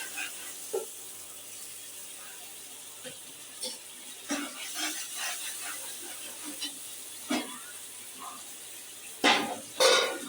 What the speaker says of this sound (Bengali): এবার আমি ভাজা আলুটা দিয়ে দেবো।